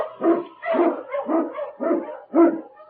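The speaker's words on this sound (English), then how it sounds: "King, the swiftest and strongest of Eskimo lead dogs, blazes the trail through storm and snow for Sergeant Preston as he meets the challen" An Eskimo sled dog barks in a radio drama set in the snowy Yukon: about five sharp, close barks in a steady rhythm, with no talk over them.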